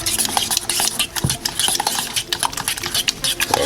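A spoon scrapes and clinks steadily against a bowl while vanilla, almond extract and sugar are stirred together, with loud, close, rhythmic strokes and no talk.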